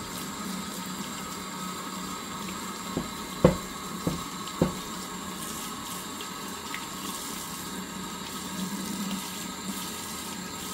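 Water runs steadily from a tap to rinse a Technics SL turntable platter. The flow is a soft, continuous wash, with a few sharp knocks of the platter near the middle.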